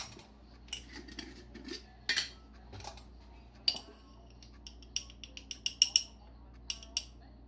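Pie dough ingredients with salt being stirred in a bowl in a home kitchen, giving scattered light clinks and scrapes of a utensil against the bowl, quiet and close, with no talking.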